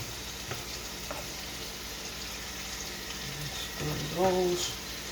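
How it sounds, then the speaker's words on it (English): Onions, peppers and mushrooms frying in a pan, a low steady sizzle with occasional scraping stirs and a faint voice near the end. "everything's off but the onions and mushrooms and peppers that I'm stirring now"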